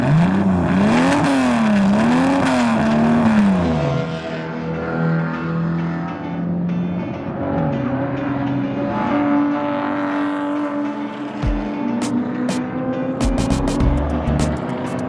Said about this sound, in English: it's a 1990 KF Laser, TX3 Turbo all-wheel drive